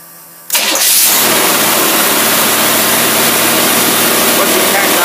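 A Predator small engine with internal problems cranks and fires after a moment of quiet, then runs loudly and steadily close by at about 2,500 rpm.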